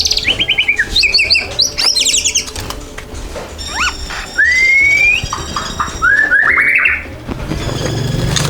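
A long-tailed white-rumped shama (murai batu) sings up close, loud and clear, with varied whistled phrases, rapid chirps and rising sweeps repeated across several seconds, with no voices.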